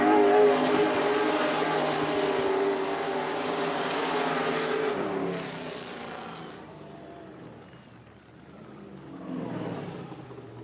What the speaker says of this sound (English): I really love the sound of American V engines. I just love this 8-cylinder music.